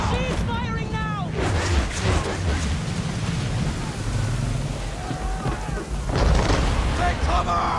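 Naval cannon fire from a ship in Assassin's Creed III, heavy booms and rumbling blasts rolling over a dense battle din of crashing water and shouting voices, with a louder burst near the end.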